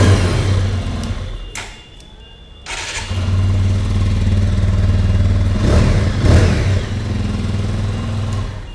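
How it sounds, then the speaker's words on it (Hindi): A new 2023 TVS Apache RTR 180 2V motorcycle engine runs loud and close, dipping briefly before climbing back to a steady heavy rumble, with small rev swells partway through. "तो ये है साउंड आपकी नई TVS अपाचे RTR 180 का"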